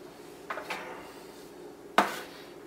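Mini banana bread loaves with pecans and walnuts knocked out of small greased loaf pans, giving a couple of light taps and then one sharper metallic clunk, close by and with no talking.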